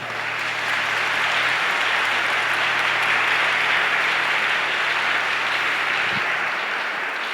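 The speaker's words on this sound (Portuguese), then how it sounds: "A Maria, uma salva de palmas." A congregation at a Catholic Mass applauds steadily for several seconds, a dense, even wash of clapping that swells slightly and then holds.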